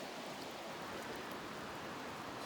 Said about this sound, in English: It's supposed to rain all day.